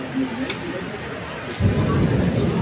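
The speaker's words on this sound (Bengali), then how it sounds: "এখন বৃষ্টি জোরে নেমে যাচ্ছে" Heavy rain from a storm in Dhaka hisses steadily while a deep rumble of thunder rolls in partway through and builds, loud and close.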